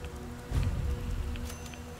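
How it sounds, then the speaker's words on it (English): Steady rain falling in the Fallout 4 video game, a dense continuous hiss with low rumble, swelling slightly after the first half second and holding at a constant level throughout. "Okay, just rain."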